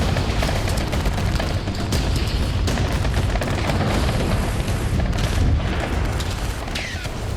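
Sustained barrage of explosions and gunfire during an attack on Israeli soldiers near a tunnel in Gaza, a dense, loud, continuous roar of booms and rapid shots with no pauses.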